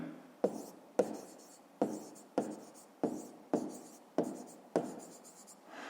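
Writing on a board during a math lesson: about nine evenly spaced strokes, each a sharp tap followed by a short scratchy drag, close and moderately quiet, with no talking.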